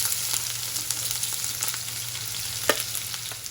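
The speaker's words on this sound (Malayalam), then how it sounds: "ഓയിൽ ചൂടായി വന്നിട്ടുണ്ട്. നമുക്ക് ഗാർണിഷ് ചെയ്യാനുള്ള ഉള്ളി ഇട്ട് കൊടുക്കാം." Sliced onions frying in hot oil for a prawn biryani garnish, a steady close sizzle and crackle with occasional pops, no voices.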